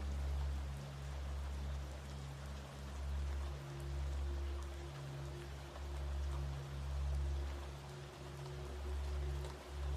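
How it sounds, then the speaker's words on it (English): Rain falls steadily above a flowing river, a soft, even wash of drops over a low, continuous rushing murmur, heard at a distance with no voices. "The rain above and the river below join together, weaving a harmony that cradles your mind."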